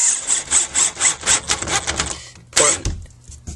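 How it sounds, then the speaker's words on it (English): Screw gun driving a screw into wood while adding wood and hanging drywall, a rapid train of loud, close, rhythmic pulses that winds down, followed by a sharp louder burst and a few trailing clicks, no talking. "I'm going to use this screw gun."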